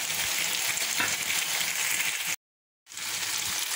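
Beef sizzling steadily in a small non-stick frying pan, a continuous hiss of frying that cuts out abruptly for about half a second and then resumes.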